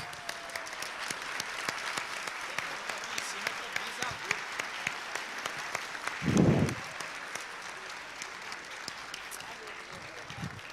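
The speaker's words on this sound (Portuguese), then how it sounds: "Eu queria que você agora pudesse ficar em pé e aplaudir esse grupo de pessoas" Church congregation at a service breaks into sustained applause that continues throughout, fairly faint and diffuse, with a voice speaking briefly over it partway through.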